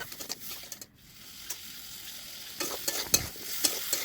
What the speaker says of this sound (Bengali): তরকারিটা ভালো করে একটু কষিয়ে নিচ্ছি